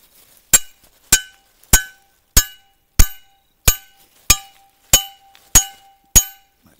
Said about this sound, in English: I'm gonna hammer in my punch in my hole